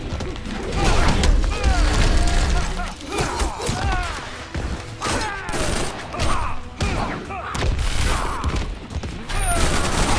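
Rapid bursts of gunfire from the Injustice fighting video game crackle nearly continuously amid game impacts and mechanical clatter, with excited voices talking over the action.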